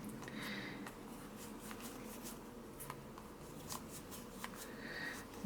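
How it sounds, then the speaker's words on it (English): Kipper and tarot cards being shuffled in a quick run of soft riffling and papery flicks, close by, with small taps scattered through a quiet background. "you would shuffle your cards up"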